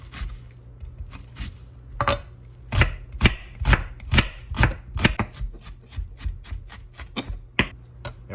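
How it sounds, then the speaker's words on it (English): A knife chopping an onion on a cutting board during guacamole prep: a series of sharp, close knocks, some spaced apart and some in quick runs, with no one speaking. "let's cut up the onion"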